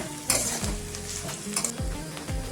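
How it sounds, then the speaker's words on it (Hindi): Oil sizzles steadily in a pan as bay leaf and garlic are stirred, with a few scraping strokes of a spoon cutting through the frying. "अभी मैं 2 मिनट फ्राई करेंगे"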